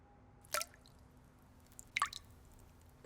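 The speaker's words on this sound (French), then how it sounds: "Le robinet ne coule qu'un tout petit peu." A cartoon faucet drips, giving two or three distinct wet plinks spaced about a second and a half apart against a quiet background.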